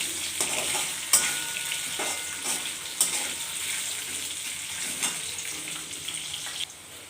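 Sliced potatoes, cut into lengthwise strips, fry in oil in a pan with a steady close sizzle, while occasional clinks and scrapes from stirring punctuate the crackle.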